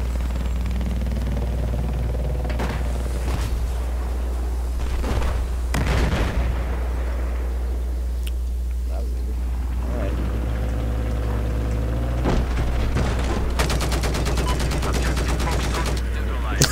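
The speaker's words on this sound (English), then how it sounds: "Oh no, you're shooting him." Gunfire in Battlefield 4, scattered sharp shots and bursts spread through the clip, some bunched into rapid volleys, over a steady low hum with game sounds and a voice talking at times.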